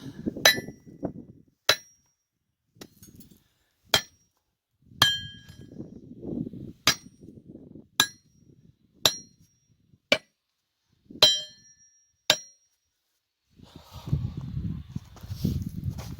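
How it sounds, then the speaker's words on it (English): About ten sharp, ringing metallic taps of a hammer head on a firm surface while fitting a new wooden handle, at uneven intervals, with low rumbling handling noise between some of them. "just tap it on a firm surface, and it's going to slide down"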